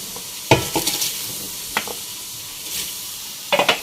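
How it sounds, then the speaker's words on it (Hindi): Soaked moong and masoor dal hit a hot pan, giving a few sharp sizzling bursts separated by quieter frying hiss, close and fairly loud. "हम इसमें अपनी मेन चीज डालेंगे, दाल शामिल करेंगे।"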